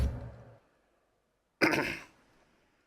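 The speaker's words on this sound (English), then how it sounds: "Have to excuse me repeatedly clearing my throat." A person clears their throat once, a short rough rasp up close, after a brief low murmur and a stretch of silence.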